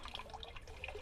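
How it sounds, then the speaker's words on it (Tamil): Liquid trickles steadily out of an opened valve on a garden bucket on a terrace garden, a faint, continuous close-up dribble and splash of water with no one speaking. "இந்த வால்வில் இது திறந்து விட்டோம்னா"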